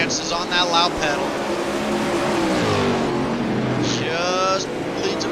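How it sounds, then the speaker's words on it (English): A 410 sprint car at full throttle in a Thunder Racing League pro series race, its engine roaring steadily with a rising and falling pitch under a commentator's continuous play-by-play. "And Jance is on that loud pedal"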